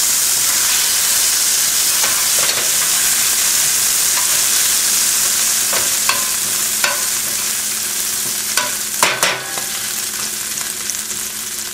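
Food sizzling in hot olive oil in a pan while making lobster fra diavolo, a dense continuous hiss up close with scattered pops and utensil scrapes, growing slightly more active toward the end.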